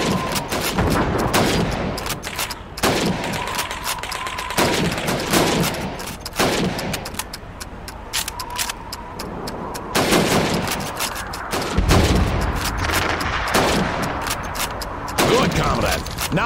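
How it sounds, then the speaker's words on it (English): Rapid rifle shots at helmet targets on a timed Red Army training range in the video game Call of Duty 2, loud sharp cracks repeating in irregular bursts across the whole stretch over steady game background noise. "Now, let's see how well you can do under pressure. You have 15 seconds to shoot the helmets."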